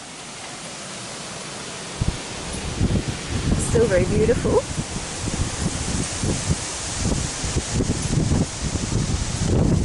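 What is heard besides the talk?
strong wind blowing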